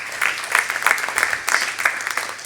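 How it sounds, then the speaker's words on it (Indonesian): A church congregation at an Indonesian worship service claps together in a dense, continuous burst of applause, close and fairly loud throughout. "Beri tepuk tangan untuk Tuhan dulu."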